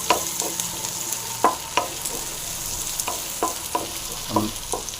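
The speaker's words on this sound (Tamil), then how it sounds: "இது கூடவே பச்சை மிளகாய் பூண்டு காஞ்ச மிளகாய் இதையும் போட்டு நல்லா ஃப்ரை பண்ணிடலாம்" Onions, green chillies, dried chillies and garlic sizzle steadily in a hot pan, with repeated scraping and clinking of a spoon stirring them at close range.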